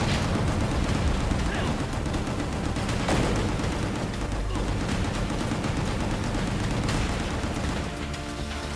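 Gunfire in GunGrave G.O.R.E: dense, continuous shooting and impacts fill the whole stretch at loud, steady level, with a voice talking over parts of it.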